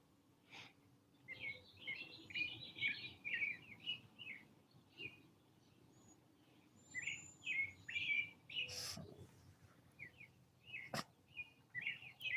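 Outdoor birdsong of repeated bright chirps and warbling phrases, moderately close, coming in bursts with short pauses and faint background rustle and breathing.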